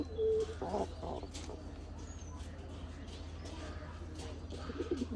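A nesting pigeon with newly hatched chicks gives a few soft, low coos, faint and spread over a quiet room-tone hum.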